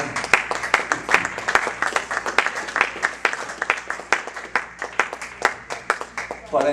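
A church congregation claps hands to praise the Lord, dense rhythmic claps close and loud throughout, with voices mixed in underneath.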